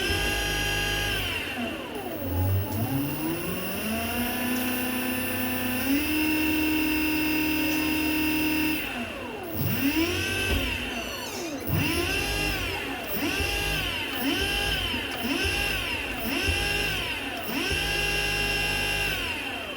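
A faulty e-rickshaw motor runs continuously with a loud, strained whine that sweeps up and down in pitch, wavering and surging irregularly over a steady low hum, close up and with no voices.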